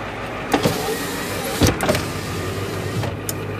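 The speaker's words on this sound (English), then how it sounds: "Power windows." Power windows whir on a 1993 Ford F-450 Super Duty car carrier. Several short, close motor bursts come over a steady idling engine.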